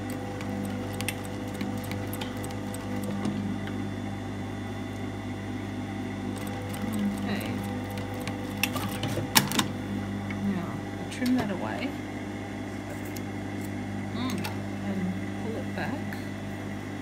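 Sewing machine stitching along a tunic seam at a double yoke and collar, a steady low mechanical hum with faint ticking throughout, sounding close and continuous.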